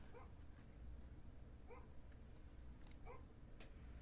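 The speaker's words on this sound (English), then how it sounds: "There's a dog barking outside." A dog barks outdoors in several short, distant bursts spaced about a second and a half apart, faint over a steady low background rumble.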